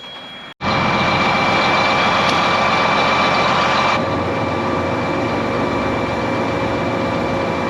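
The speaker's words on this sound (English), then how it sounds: "starting the tractor on the pump" A diesel tractor engine starts with a brief click, then runs loud and steady, a constant rumbling drone close by.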